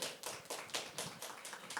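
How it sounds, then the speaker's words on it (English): An audience at a panel discussion applauds, with a quick run of fairly soft, rhythmic handclaps from a small crowd that continues without a break. "Please, a round of applause for her for that."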